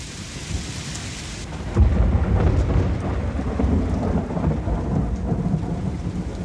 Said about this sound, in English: The intermittent rain showers took away any hopes of cooking over the fire pit.